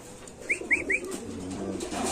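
Pigeons for sale at a market give three quick, soft coos in a row, close by, over a low murmur of background noise.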